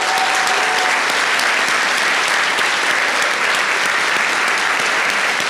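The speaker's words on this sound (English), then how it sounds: "so give it applause." An audience at an annual general meeting breaks into loud, sustained applause, many hands clapping in a thick, unbroken wash that stays level from start to finish.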